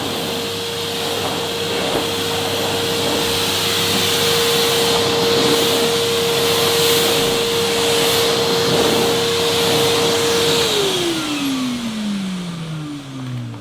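A Henry Hetty XL Plus vacuum cleaner runs with its suction turned down, a loud steady motor whine with a constant tone that drops in pitch near the end.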